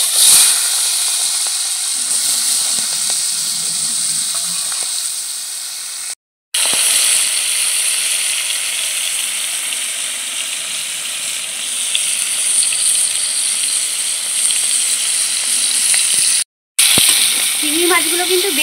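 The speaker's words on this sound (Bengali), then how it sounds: "এখন চিংড়ি মাছগুলো আমি ভেজে নিচ্ছি।" Prawns coated with salt and turmeric sizzle loudly in hot oil in a wok, a close, continuous hiss broken by two brief cuts, with faint rattling near the end.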